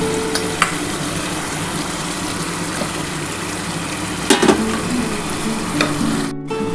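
Fish pieces frying with potatoes in a pan for a Bengali rita/black catfish curry, a steady close sizzle with a few sharp crackles and a stirring clatter near the end, no talk.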